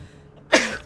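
A single sudden sneeze bursts out loud and close after a moment of near silence, then fades quickly.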